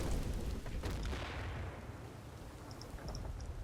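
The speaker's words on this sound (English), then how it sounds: "We are getting kind of mortared though." Mortar shells burst in the Combat Mission: Battle for Normandy war game, a dense rumbling barrage of booms that swells, then settles into a steady low roar with faint distant crackle.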